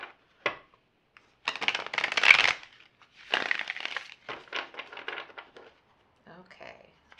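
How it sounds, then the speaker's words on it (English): A Buffy the Vampire Slayer tarot deck is shuffled by hand in short, irregular bursts of papery riffling and card slaps, close up, separated by brief pauses. "I don't know how I'm going to shuffle this."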